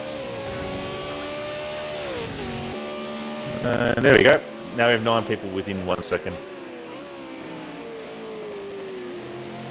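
Super2 race cars circulate at Donington Park National, their engine whine rising and falling as they pass. Lively commentary runs over the engines, with a burst of louder, choppy sound midway.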